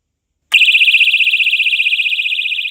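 A personal safety alarm goes off abruptly after silence, a piercing high-pitched electronic shriek that warbles rapidly and evenly and holds loud and close for about two seconds.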